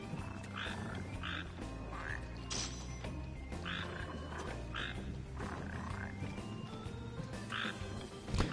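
Frogs croak repeatedly in Final Fantasy XV, in short paired bursts that keep a loose rhythm over a steady bed of game music and ambience, moderately loud throughout.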